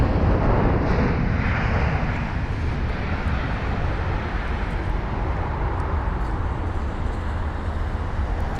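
An Egypt Air Boeing 777-300ER comes in to land at London Heathrow, a loud, broad jet engine roar that stays steady throughout, heard close without speech.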